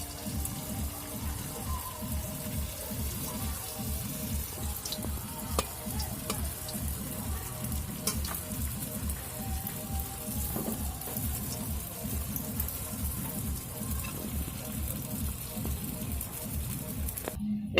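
Banana fritters fry in hot oil with a continuous dense sizzle and crackle, steady and close, with occasional light clinks and stirring noises over the top.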